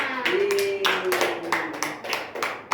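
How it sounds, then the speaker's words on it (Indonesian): A small group claps in a classroom during a micro-teaching practice lesson, quick bursts of clapping close by, mixed with a voice talking over it. "Tepuk tangan untuk kita semua."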